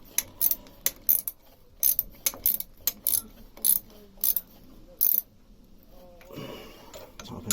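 Metal clicks and ratcheting from a wrench tightening loose alternator bolts on a vehicle, a run of sharp, irregular bursts close by, separated by short quiet gaps.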